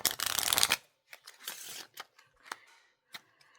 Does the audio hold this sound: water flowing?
no